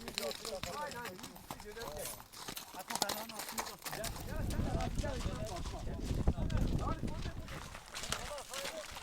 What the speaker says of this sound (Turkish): atlar sürmeye gidiyor